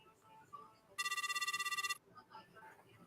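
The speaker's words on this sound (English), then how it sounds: "And the phone sound effects was kind of different." A phone rings in the Neptunia Alternative.EXE video game, one second of fast trilling electronic ring, fairly quiet, with faint game sounds before and after.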